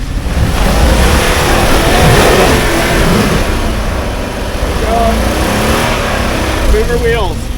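An off-road overland truck stuck in sand revs its engine hard and steadily throughout, with people talking nearby over the loud mid-pitched roar.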